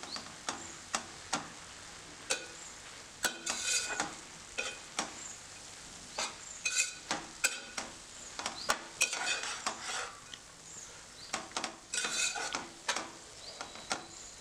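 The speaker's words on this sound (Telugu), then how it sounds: "ఇప్పుడు నేను మళ్ళీ ఇదంతా ఒకసారి కలుపుకుంటున్నాను." Amaranth leaf and tomato curry is stirred in a pan, with sharp spatula clacks and scrapes against the metal. A soft sizzle runs underneath, the strokes come in irregular clusters, and no voices are heard.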